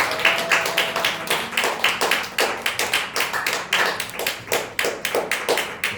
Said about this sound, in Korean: 뜨겁게 한번 다시 격려의 박수를 부탁드리겠습니다.